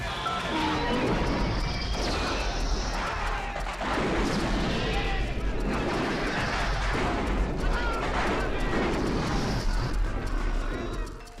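A staged movie detonation at a rigged South American base, replayed from several angles as repeated rumbling blasts and crashing debris, loud and dense, mixed with talk over the action.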